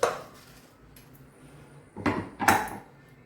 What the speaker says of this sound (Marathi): आता वांगी कापून त्या वांगी वांग्याला मीठ लावू आपण